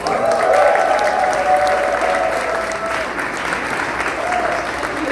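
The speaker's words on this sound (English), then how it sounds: "Round of applause." A crowd at a political campaign launch applauds a guest, with continuous, fairly loud clapping that holds steady throughout, mixed with faint cheers from the room.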